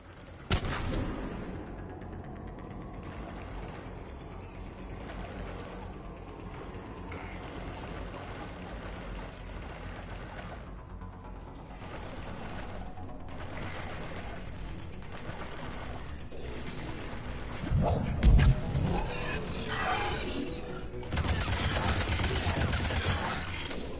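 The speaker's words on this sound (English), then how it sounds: "Shepard, I hear gunfire" Dense, rapid gunfire crackles steadily with mechanical clatter, building into heavier bursts and a deep thump near the end, in a Mass Effect trilogy firefight on PS5.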